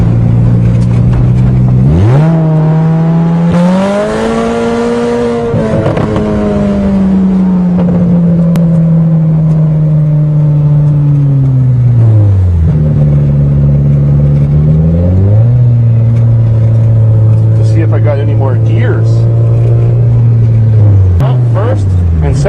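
A Toyota GTS accelerating hard on a cold motor, its engine droning loud and close, the pitch climbing through gears with drops at each shift, and a voice talking over the whole run.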